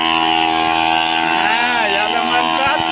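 A 12-litre water pump engine runs steadily with a loud, continuous droning hum that holds throughout, while voices talk over it.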